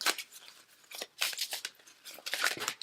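Tarot cards being shuffled give crisp papery rustling and snapping bursts, close and fairly quiet, coming in quick irregular shuffles with brief pauses between.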